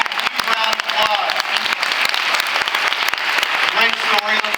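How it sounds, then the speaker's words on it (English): A conference audience gives Stephanie, who has just shared her story, a round of applause. Dense, lively clapping fills the room continuously, and a few voices and cheers rise over it. "Let's give Stephanie a huge round of applause"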